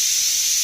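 Steam hisses steadily from a pressure cooker whistle, a constant high airy release with no breaks, loud and alone for under a second.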